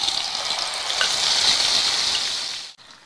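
Ground mint paste sizzles and fries in hot oil tempered with mustard seeds and curry leaves, a steady close hiss with a stir partway through and a brief drop near the end.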